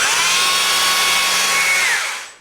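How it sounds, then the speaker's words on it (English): Chainsaw engine briefly running, a loud close high-pitched whirring roar that holds steady for about two seconds and then quickly dies away. "if you trip or fall and you pull your finger, that chainsaw can start"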